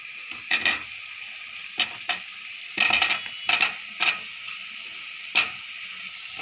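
Cauliflower and roasted masala being mixed in a pan for jeera gobhi fried rice, with irregular scraping and stirring clatters over a steady soft sizzle, fairly close and alone.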